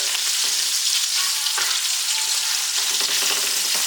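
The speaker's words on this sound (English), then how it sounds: "Because the sausage is already pre-cooked, so you just want to brown it a little bit on medium heat" Pre-cooked mango habanero sausage browning in a pan over medium heat, giving a loud, dense, continuous sizzle with occasional soft stirring scrapes and no talking.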